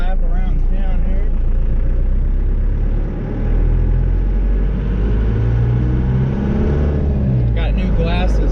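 Car engine hums steadily at mid pitch while driving a slow warm-up loop through town streets, with a low rumble throughout and a voice talking over it.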